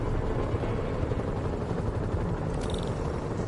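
A helicopter in a Spider-Man video game gives off a continuous low, rumbling rotor drone, steady and fairly loud throughout, with no voices.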